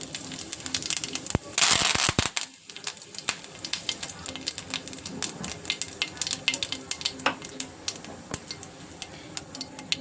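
Cumin seeds crackle and sizzle in two spoons of hot oil for rasam, a dense, busy frying patter with sharp pops, loudest early on and then settling into a steady sizzle.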